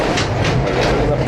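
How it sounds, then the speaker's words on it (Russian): Steady rumbling of an underground train running through the New Athos Cave in Abkhazia, a continuous loud roar with rhythmic rattling, voices faintly mixed in. "Пещерное метро."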